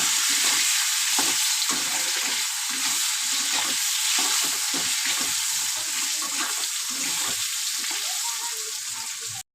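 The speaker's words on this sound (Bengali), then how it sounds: "সামান্য জিরের গুঁড়ো দিয়ে দেবো। দিয়ে আমি ভালো করে ভেজে নেব।" Spices and cumin powder frying in a pan for a small fish curry, a steady bright sizzle broken by repeated rhythmic scraping strokes of stirring, close and fairly loud throughout.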